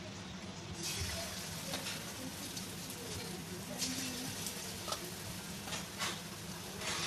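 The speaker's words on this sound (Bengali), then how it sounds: "এবার আমি বড়াগুলো আস্তে আস্তে করে ছেড়ে দিব।" Ripe banana fritter batter dropped into hot oil in a kadai over a medium gas flame, giving a steady, dense crackling sizzle with scattered pops throughout.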